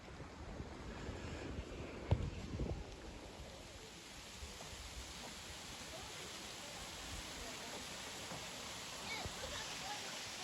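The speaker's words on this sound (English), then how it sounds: "last waterfall here on the Arkansas side of Dogwood Canyon" Waterfall in Dogwood Canyon nature park, a steady broadband rush of falling water, constant and fairly soft, heard from a short distance with no clear talk.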